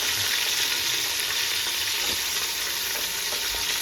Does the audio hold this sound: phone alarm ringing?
no